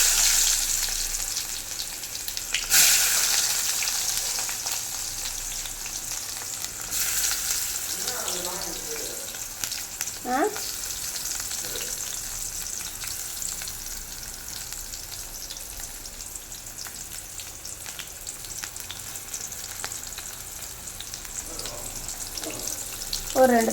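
Four sliced onions hitting hot oil already popping with mustard seeds, a steady frying crackle with a few louder spoon scrapes and clinks, and faint voices in the background.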